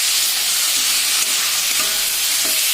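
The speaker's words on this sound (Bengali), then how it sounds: "সব কিছু একসাথে ভালো করে কষিয়ে নেবো।" Eggplant, eggs and chopped cauliflower are stir-fried together in a sizzling pan; a continuous loud frying hiss runs throughout, with a few soft scraping stirs of a utensil against the pan, and no talking.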